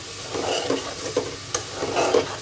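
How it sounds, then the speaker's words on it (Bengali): Yardlong beans sauté with spices in a pan, giving a soft, steady sizzle with a few sharp stirring clacks and scrapes of a spoon, close by and without talk. "এখন আমি এই যে বরবটিগুলো এর মধ্যে একসাথে কষিয়ে নিচ্ছি মশলার সাথে।"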